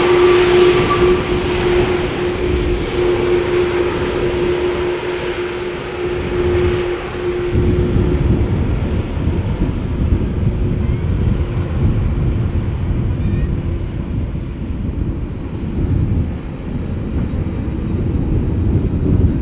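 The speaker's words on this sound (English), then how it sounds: "Now it looks like a 747." A Boeing 747 at Schiphol Airport rumbles steadily and loudly for the whole stretch, with a sustained jet engine roar and a constant low drone. No one talks.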